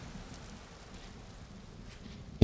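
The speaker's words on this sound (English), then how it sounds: "Interesting that it's raining over there and not over here." Rain falling in Vintage Story, a soft steady hiss of distant rainfall, faint and even throughout with no talk over it.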